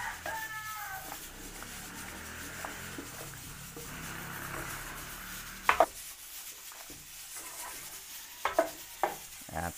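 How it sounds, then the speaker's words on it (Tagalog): Potatoes, carrots and liver spread being stirred in a pan, a quiet ongoing sizzle with scattered scrapes and clinks of a utensil, and a rooster crowing faintly in the background. "Haluin lang po natin."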